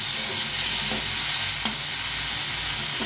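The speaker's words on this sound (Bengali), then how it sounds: "এটা বেশি ভাজবো না, অল্প করে ভেজে নেব।" Coriander leaves sizzle steadily in a hot pan while being stirred, a close, constant frying hiss with soft scraping strokes mixed in and no talking.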